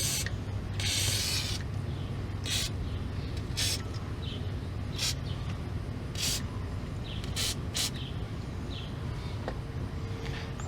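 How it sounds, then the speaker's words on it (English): Repeated short bursts of spray hit the brake rotor of a Dodge Caravan, several hisses in an irregular rhythm over a steady background hum, close and fairly loud. "I'm going to spray this down just to help it out"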